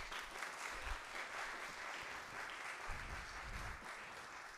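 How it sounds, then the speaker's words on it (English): Concert choir and audience applaud at a charity concert for the MS Society, a sustained, even round of many hands clapping, quiet and somewhat distant, with scattered low thumps beneath. "So give the audience a wee round of applause"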